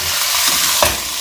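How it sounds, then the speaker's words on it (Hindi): Chicken sautéing in a pan with half a teaspoon of salt, a steady sizzle and fry hiss under a brief stirring scrape near the end, close and alone. "हल्का सा हम इसको भून देंगे।"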